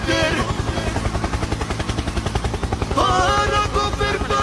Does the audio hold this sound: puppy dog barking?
no